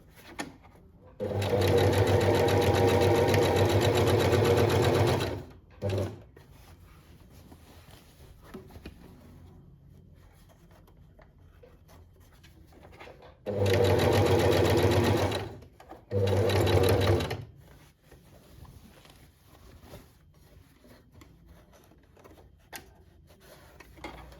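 Sewing machine stitching a trouser hem, two long runs of rapid steady mechanical whirring with short bursts between, close and loud, separated by quieter handling and faint talk.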